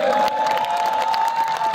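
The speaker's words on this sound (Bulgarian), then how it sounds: "нека чуем още веднъж аплодисменти за единствени и неповторим гласът на Родопите" An audience applauds and cheers for a singer, a dense, steady wash of clapping with a sustained tone ringing through it, no voices on top.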